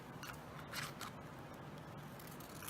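Scissors trim paper for a travel journal, making several quiet snipping cuts in quick succession against a faint, close room background.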